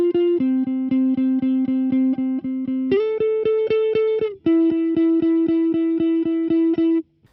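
A clean electric guitar plays steady, evenly picked repeated notes, shifting pitch a few times before ringing out, with a fairly dry, neutral amp tone.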